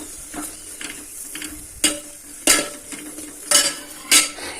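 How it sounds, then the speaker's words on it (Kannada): Food is stirred and fried in a pan for a Kannada-style gojju, with sharp metallic scrapes and clinks of a utensil against the pan at irregular intervals over a faint frying hiss, close and alone with no speech. "ಈ ಥರ ಫ್ರೈ ಅಂದರೆ ಈ ಥರ ಹುರ್ಕೋಬೇಕು"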